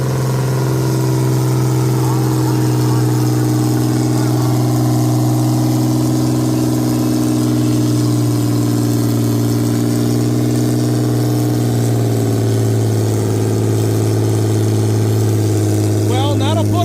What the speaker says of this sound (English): I've seen this tractor pull its brains out, straight pipe, big old thunderous sucker